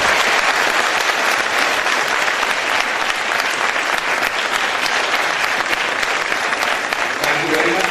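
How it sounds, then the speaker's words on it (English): A school audience applauds prefects and captains at an annual appreciation day, with steady, loud, sustained clapping from a large crowd that fills the whole stretch without pause. "I would like you all to please give them a big round of applause."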